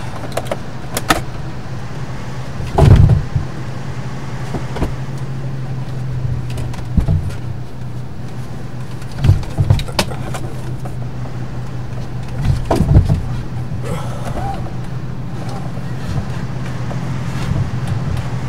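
A truck drives in Euro Truck Simulator, a steady low engine drone that continues throughout, broken by several short thumps and clunks.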